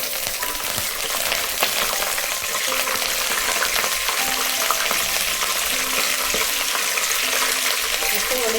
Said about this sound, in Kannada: ಸ್ಟವ್ ಆಫ್ ಮಾಡಿದ ಮತ್ತೆ ಕರಿಬೇವಿನ ಸೊಪ್ಪು ಹಾಕಬೇಕು.